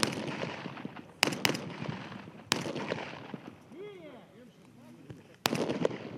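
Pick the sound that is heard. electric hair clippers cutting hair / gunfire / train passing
gunfire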